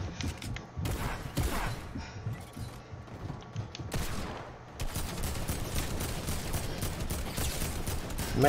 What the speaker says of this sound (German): das gibt direkt ein wildes Geballer